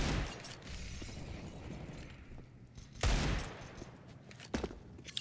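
AK rifles fire automatic bursts in a Counter-Strike match, loud rattling volleys with sharp peaks over continuous game noise and footsteps, no voices.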